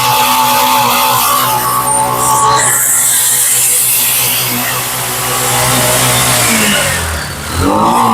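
Auto rickshaw engine idling and revving in a repair garage, loud and close, a harsh buzzing drone that rises and falls through repeated throttle blips with a dip near the end.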